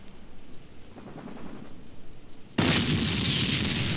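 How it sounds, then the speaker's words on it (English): Bombing in the World War II tactics game Graviteam Tactics: Mius Front on the Red Army side, a low rumbling battle bed that erupts into a sudden loud, sustained blast roar, no voices. "The bombing will stop by the time you get there."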